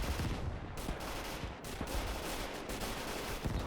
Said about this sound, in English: There's a lot of bullets in the air right now.